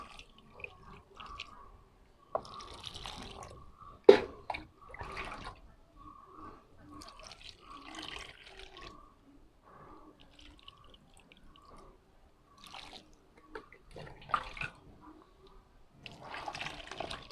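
Water poured into the soil of a pot holding a lotus tuber gives soft, intermittent trickles and drips, faint and spaced apart over a quiet background.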